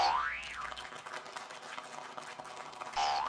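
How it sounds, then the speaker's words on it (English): An object dropped and bouncing, heard as a springy boing effect with a rising and falling wobbling tone, a busy middle stretch and a second boing at the end, loud and clear with no talk. "Did it bounce? Like this?"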